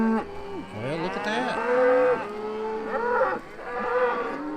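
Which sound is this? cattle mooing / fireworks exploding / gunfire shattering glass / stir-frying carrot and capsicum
cattle mooing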